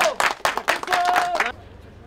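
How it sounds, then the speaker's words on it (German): A small crowd at a shop opening gives a short round of applause with cheering and a whistle-like whoop, which stops abruptly after about a second and a half and leaves quiet room tone. "Alle mal Applaus für Yusuf."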